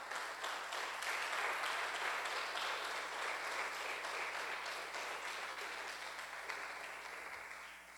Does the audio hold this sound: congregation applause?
yes